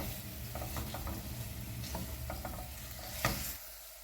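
Dry lentils, bulgur and rice sizzle and rustle in a hot pot, with steady scraping stirs and a few spoon clicks, close up and alone.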